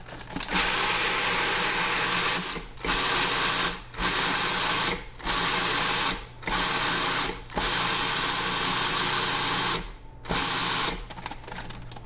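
Kitchen appliance mincing carrots in repeated loud whirring bursts of about a second each, separated by brief pauses, close and steady with no talking.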